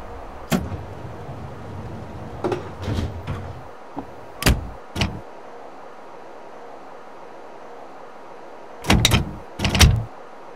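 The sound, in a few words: Chicago Brown Line train doors closing, Railfan PS3 video game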